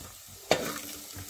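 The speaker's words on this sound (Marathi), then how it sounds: "कांदा शिजतो, जरा कांदा असा लालूच व्हायला हवा" Chopped onion hits hot oil in a pan, letting out a sudden loud hiss that settles into a steady sizzle and slowly fades over about a second, with no voices.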